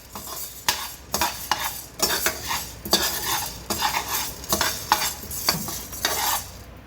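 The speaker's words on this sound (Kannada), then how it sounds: "ಈ ಥರ ಆಗಬೇಕು ಮೆಣಸು ಹುರಿದಾಗೆ" Dry chili peppers are stirred in a pan over a low flame for a Brahmin-style saaru powder, giving a steady series of scraping, rattling strokes from a spoon about once a second under a faint sizzle.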